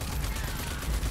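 Dense, rapid video game gunfire from Rage 2 crackles continuously in a short burst, loud and close, with a rumbling low end.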